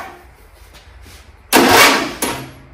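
A Briggs & Stratton V-twin lawn tractor engine, 21 hp, tries to crank on its starter and locks up: two short, loud bursts of strained cranking noise that stop abruptly after a quiet lead-in.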